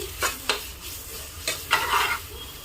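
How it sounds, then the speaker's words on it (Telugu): A tablespoon of ginger garlic paste fries with green chillies in a pan, a soft sizzle punctuated by several sharp stirring scrapes at irregular intervals. "అల్లం వెల్లుల్లి పేస్ట్ పచ్చిమిరపకాయలు పోయేంత వరకు వేయించుకోవాలండి"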